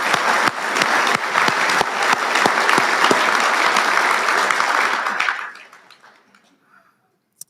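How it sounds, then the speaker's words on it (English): Audience applause at an awards dinner, a full room of clapping with a few sharp individual claps standing out, sustained loudly for about five seconds before quickly thinning out and fading to silence. "Folks, please, another round of applause."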